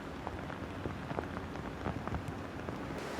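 Heavy rain pouring steadily in California during flooding, a dense, even hiss of drops striking surfaces, with scattered louder splashes and no voices.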